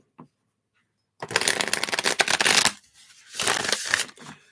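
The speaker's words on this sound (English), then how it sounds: "Shuffle these up." A deck of tarot cards is shuffled by hand, giving two close, crisp bursts of riffling and flicking separated by a short pause. A faint tap comes before them.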